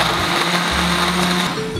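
A blender whirs steadily as it blends Oreos and ice cream into a drink, a loud continuous motor hum with a brief shift in pitch partway through, heard alone.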